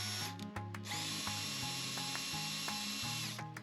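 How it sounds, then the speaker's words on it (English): Drilling holes through the sheet metal of a blast cabinet, a steady power-drill whine that holds nearly the whole time, with a few brief pauses and clicks, close and constant. "Now I'll just get the holes drilled that will hold the frame itself into place."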